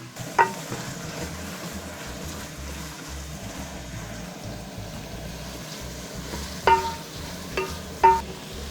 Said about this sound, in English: Then you keep on stirring with a wooden stir.